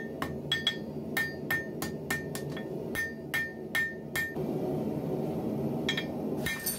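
Hammer forging a steel sword guard on an anvil, shaping the corners of a spoon-shaped knuckle bow; a run of sharp, ringing metallic strikes in an irregular rhythm, close and clear, with a brief lull before a final blow.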